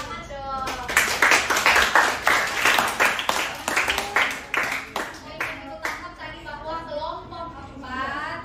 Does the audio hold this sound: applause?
yes